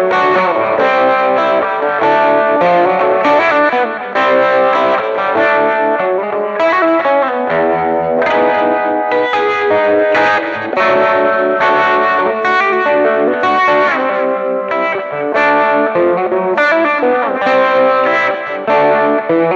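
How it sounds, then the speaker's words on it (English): A stock 1979 Fender Strat runs through a Univibe pedal in Univibe mode with the speed turned up. It plays continuous warbling, throbbing, slightly distorted chords and lines for the whole stretch, with no talking. "next I switch the pedal over to Univibe mode, turn the speed up a little bit, and you get that classic sound all the way"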